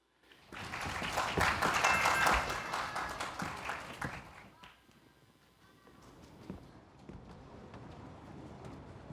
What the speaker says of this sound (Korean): 우리 대원여자고등학교 친구들을 박수로 맞아주시기 바랍니다